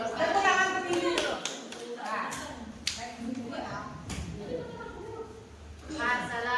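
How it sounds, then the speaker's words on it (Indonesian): A few sparse claps and taps sound in a classroom among children's chatter and talking voices, irregular and fairly faint rather than a full round of applause. "Tepuk tangan untuk ini dulu."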